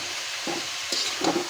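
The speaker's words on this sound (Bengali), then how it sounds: "মশলাটা আবার এখানে কষা হয়ে গেছে, ভাপিয়ে রাখা কচুগুলো দিয়ে দিলাম।" Steamed taro pieces drop into sizzling spice paste in a pan, giving a soft steady hiss broken by a few short stirring scrapes and louder bursts of sizzle up close.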